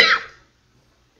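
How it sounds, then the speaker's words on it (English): A single short, sharp cough from a nearby person, quickly fading to near silence. "I love having a constant coughing."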